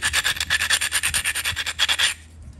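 Pressure flaking a hornstone dovetail point: rapid, rhythmic, loud scratchy rubbing strokes close up, about a dozen in quick succession, then stopping abruptly.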